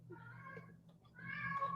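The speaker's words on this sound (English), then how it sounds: "I'm very sorry if you can hear my cat" A house cat meows twice nearby during a quiet indoor livestream, the second call longer and rising, with faint background hum.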